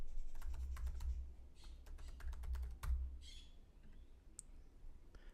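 Quick keystrokes on a computer keyboard with mouse clicks while a room name is entered into a web browser, a run of light, close taps and clicks in a quiet room.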